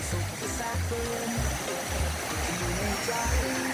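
Mo Paeng waterfall in Pai, Thailand roars as a loud, continuous rush of falling water close by, with people talking over it.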